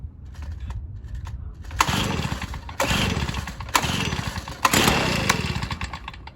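A gas backpack leaf blower, an Echo PB-265LN or a 2005 Stihl BR420C Magnum, is cold started with a few short sputtering pulls, then catches and revs in loud rising bursts that cut off and restart.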